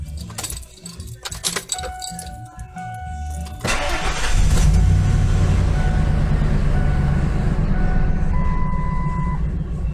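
Keys jangle and click, then a truck engine cranks and catches around four seconds in, settling into a loud, steady idle rumble close by.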